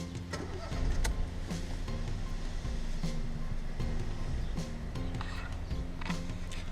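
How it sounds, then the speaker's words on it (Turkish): A Ford Fiesta ST-Line 1.0 EcoBoost turbo three-cylinder engine runs with a steady, rough, noisy hum that stays close and continuous, with faint mechanical rattles on top. "Motor biraz gürültülü çalışıyor çünkü. 3 silindirli olmasından kaynaklı bu gürültü."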